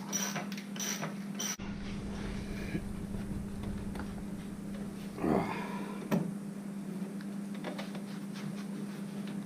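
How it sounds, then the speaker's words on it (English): Ratchet cranking down the bolts on a Jeep Wrangler TJ fuel pump, a close mechanical ticking in short bursts with a few clunks, heard alone without talk. "So I'm gonna tighten those 4 bolts now."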